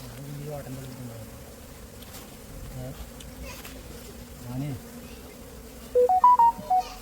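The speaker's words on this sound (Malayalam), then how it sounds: "ബാക്കിയുള്ള ഈച്ചകളെ വാരി കൂട്ടിലേക്ക് ഇടുകയാണ്" Honey bees scooped by hand into a hive box make a steady, dense buzzing drone up close, with a few louder passing buzzes and a short run of beeping tones near the end.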